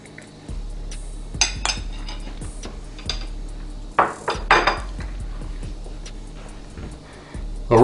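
Metal utensils clink and scrape against a dish while cutting into a piece of air-fried apple pie, with scattered sharp taps and a few louder knocks at close range.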